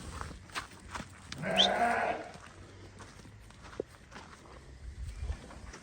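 A ram moving about loose on a farm, with shuffling hoof and footstep noises, a few short knocks, and one brief bleat-like call near the middle, fairly close and otherwise quiet.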